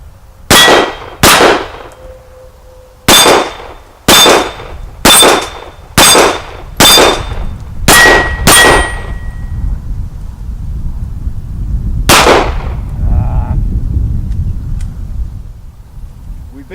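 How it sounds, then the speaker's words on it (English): An H&K VP9 pistol fires outdoors on a hillside, with about nine sharp shots in an uneven rhythm; several are followed by a faint metallic ring from an 8-inch steel gong about 40 yards off, then wind noise and one last shot. "an 8-inch steel gong out at 40 yards on the hillside"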